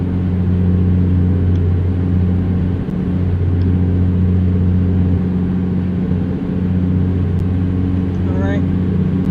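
Steady low truck engine drone from a Peterbilt 350 cruising in American Truck Simulator, with cars passing on the road and a brief rising whoosh near the end; someone talks over it throughout.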